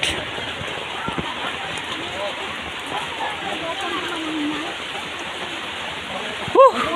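Rain falls in steady monsoon weather, a dense, even hiss that carries through the whole stretch, with a brief louder knock near the end.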